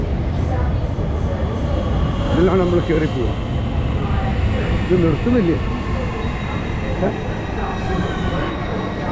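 A train rumbles past at a station in London with a continuous roar and faint wheel squeal, while people talk nearby over the noise.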